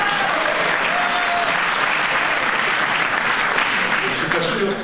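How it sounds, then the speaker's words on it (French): Audience applause during a political speech, a loud, dense and continuous roar of clapping from a large crowd that holds steady for about five seconds, with faint voices mixed in beneath. "Je ne suis pas sûr que le concert des applaudissements soit tout à fait unanime sur ce point."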